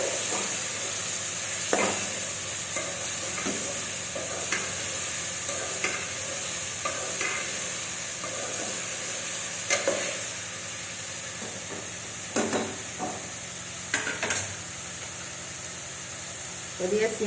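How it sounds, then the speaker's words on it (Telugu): A ridge gourd and egg curry sizzles steadily in a pan while a spoon stirs and scrapes it, with occasional louder clatters over the constant frying hiss. "మంచిగా ఒకసారి కలపాలి."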